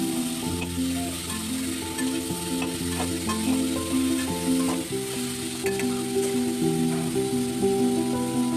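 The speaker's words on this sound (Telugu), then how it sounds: "తిప్పుకున్న దాంట్లో వంకాయ ముక్కలు వేసుకోవాలి. వంకాయలు తిప్పుకోవాలి ఒకసారి." Brinjal pieces fry in a pan while they are stirred, producing a loud, dense sizzle with repeated scraping and stirring noises throughout, close up, with no talking.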